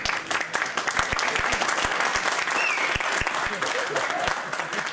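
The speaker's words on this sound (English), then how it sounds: "Why clapping?" Students in a physics lecture hall clap together, dense crowd applause with sharp individual claps punctuating it, and a voice speaks over it.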